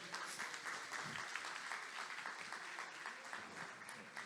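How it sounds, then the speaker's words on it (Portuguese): A church congregation at a family worship service claps together in steady, continuous applause, a moderately distant wash of hands filling the room for a few seconds. "Mas aqui você pode aplaudir o Senhor."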